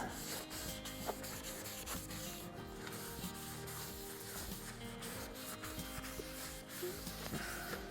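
A cloth rubs turned mimosa wood wet with denatured alcohol, a soft continuous scrubbing and wiping, faint and close under a low background hum, with no speech.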